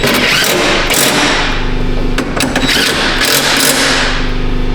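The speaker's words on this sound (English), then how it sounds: "Clickety click. Torque to spec." A torque wrench clicks several times, sharp and close, while a window regulator bolt is tightened inside the driver door of a 2016 Ford Expedition, over a steady background of mechanical noise.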